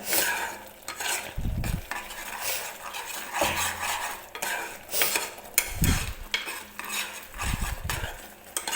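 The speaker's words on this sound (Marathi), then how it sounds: "हे मिश्रण सतत हलवत राहायचं आहे आपल्याला." Kalakand mixture of milk and sugar stirred constantly in a pan, with repeated close scraping of a utensil against the metal, rhythmic and steady, alone without talk.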